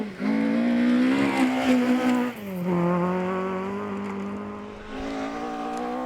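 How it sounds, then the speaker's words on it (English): A rebuilt Ford Fiesta rally car on gravel at the RSAC Scottish Rally, its engine note rising and falling through gear changes, loud and sustained as it drives close by. "Stephen and Mary Wood were trying their rebuilt Fiesta on gravel for the first time"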